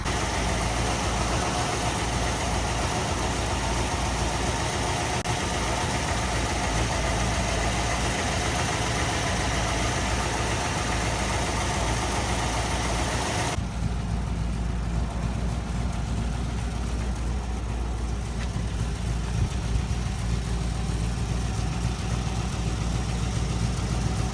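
A 1977 MGB fitted with a 4.0L Rover V8 idles steadily around 1,000 rpm, a continuous close, even engine drone with a slight shift in tone partway through and no talking.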